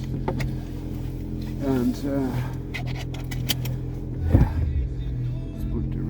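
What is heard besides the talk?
Suzuki Swift Sport hybrid engine starting with HKS exhaust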